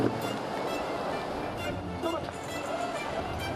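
Ocean waves break off the coast of Mauritania with a continuous rough surf roar and some wind buffeting, steady and loud throughout with small swells of intensity.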